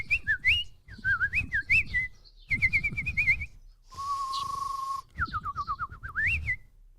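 A person whistling in imitation of bird calls, several warbling trilled phrases and one long steady held note, loud and close, separated by short pauses.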